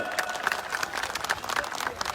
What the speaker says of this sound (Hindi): जरा उनका लिए जोरदार ताली ना बजाओ